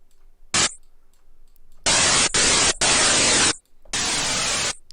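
Broadband white noise bursts shaped in Ableton as a riser transition effect, a short hiss followed by several longer sustained blasts of static separated by brief gaps, loud and alone.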